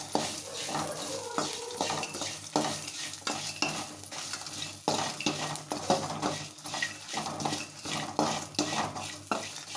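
Turmeric frying in oil in a pan for vangibath, with a continuous sizzle under repeated scraping and clattering as a spoon stirs against the pan.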